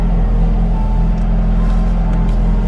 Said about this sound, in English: Let's go ahead and put it in Sports Plus and hear that exhaust.